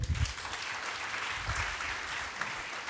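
A church congregation breaks into steady, dense applause, a loud sustained wash of clapping with some low rumble underneath.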